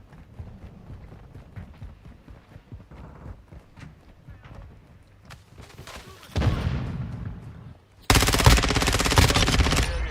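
Rapid automatic gunfire from an ISO 9mm submachine gun in Call of Duty Modern Warfare II, starting as scattered shots and footsteps, then erupting into loud, sustained bursts near the end, with game voice callouts in between.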